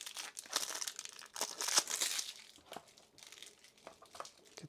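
Plastic wrap being pulled off a deck of cards from a WWII North African combat card game, crackling and crinkling in quick, soft bursts that stay close and faint, with no voices over it.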